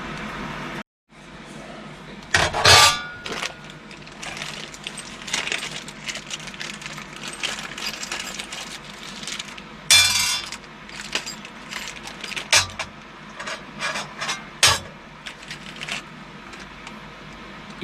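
E-bike keys clink and jingle in short metallic bursts close by, scattered over a quiet workshop background with faint handling noise between them.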